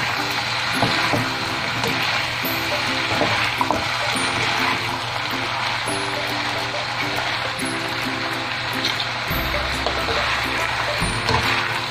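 Spaghetti is stirred into chicken chow mein in a hot pan, giving a steady, loud sizzling wash with pulsing scrapes and tosses throughout, no voices.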